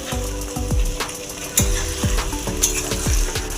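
A ground paste of dried chilli, ginger, garlic and onion hits a hot wok and sizzles loudly, with repeated rhythmic scraping and clanking strokes of a stirring utensil about twice a second.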